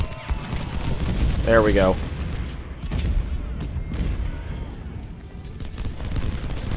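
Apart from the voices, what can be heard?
artillery firing in the video game Ultimate General: Civil War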